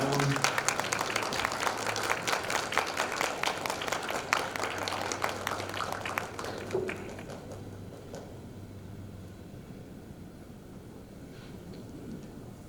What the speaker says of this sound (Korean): 뜨거운 박수 부탁드립니다